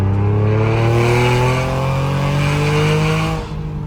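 A Chevrolet Camaro V6 with an MG exhaust (X-pipe mid-section and rear mufflers, catalysts kept) accelerates hard, loud and close, its engine note climbing steadily for several seconds before easing slightly at the end.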